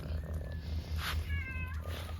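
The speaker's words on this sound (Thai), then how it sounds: "เจอลูกแมวนะครับ น่าจะมาจับนก" A kitten meows in a vegetable garden in front of a house, giving a couple of short, faint cries over a low steady background hum, with no talking.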